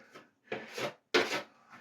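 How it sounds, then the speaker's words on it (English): Close, gritty scraping strokes, a few short rasping passes of a blade across dried drywall joint compound, with brief pauses between. "What I'll do is I'll scrape it quick, use a damp rag."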